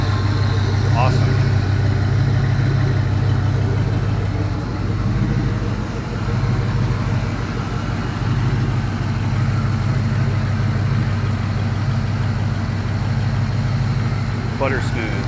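A Chevy 5.3L LS Vortec V8 idles steadily and smoothly, a loud, even low rumble that holds for the full length with no lifter tick and no speech.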